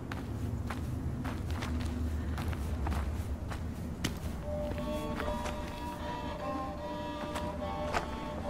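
Footsteps crunching through a forest in the horror game Through the Woods, a steady rhythm of soft close steps over a constant ambient rumble, with music tones rising later.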